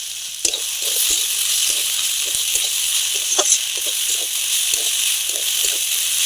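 Chopped fig greens (dumur) fry in a pan with turmeric and chili powder, a steady bright sizzle with intermittent stirring scrapes and taps, close and fairly loud.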